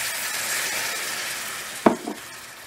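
Taco meat in a pan sizzles with a steady soft hiss after water is added, then a spoon scrapes and stirs in a couple of brief, sharper knocks near the end.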